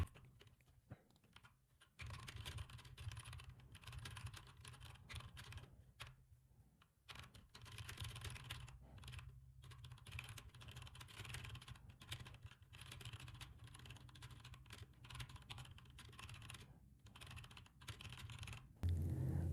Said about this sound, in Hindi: इन लेटर्स को टाइप करते अपना रेस यहाँ पे आप जीत सकते हैं